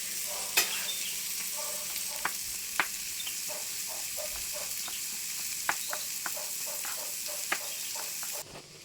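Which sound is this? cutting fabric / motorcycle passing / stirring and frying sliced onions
stirring and frying sliced onions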